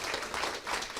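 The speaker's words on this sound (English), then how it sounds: "One more round of applause for Serena, Tom, Beth and Chloe." Brief burst of audience applause at a poetry prize event, many hands clapping together in a soft, dense patter lasting about a second.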